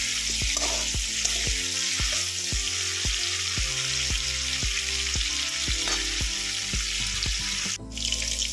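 Potatoes and garlic fry steadily in a hot pan with oil, a continuous close sizzle and crackle with regular scraping stirs running through it, all without talk.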